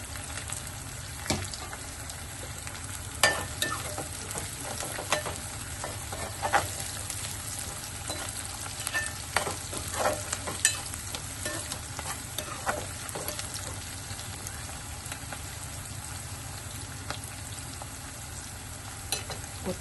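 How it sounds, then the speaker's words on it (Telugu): Onions, green chillies and mint fry in hot oil with a steady close sizzle, broken by sharp scraping and clinking as the mix is stirred in the pan. "ఈ నూనెలో కాసేపు ఫ్రై అవ్వాలి"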